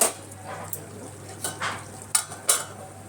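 Chicken and potato curry cooks in a pan with a few soft scrapes and stirring clinks, brief bursts of sizzle spaced over a low steady hum, close and moderately quiet.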